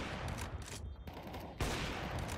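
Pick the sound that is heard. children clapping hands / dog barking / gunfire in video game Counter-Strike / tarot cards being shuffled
gunfire in video game Counter-Strike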